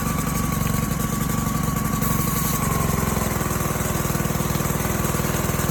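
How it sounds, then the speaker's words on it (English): A small pressure washer engine runs steadily and close by, its low throbbing note sagging and roughening partway through as it bogs down under load when the spray wand is used. "if I try to use the wand, you'll hear the engine die a little bit"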